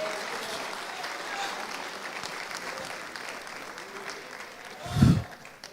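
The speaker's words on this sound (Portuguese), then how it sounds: "Aplauda, irmão, o Senhor está aqui" Church congregation clapping during a service, a dense, even wash of applause at moderate level that carries on steadily, broken by a brief low thump near the end.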